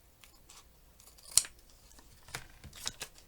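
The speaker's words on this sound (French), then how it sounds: "Je coupe." Scissors snip through material in a short sequence of crisp, close cuts, one louder snip followed by a few softer ones, with no talking.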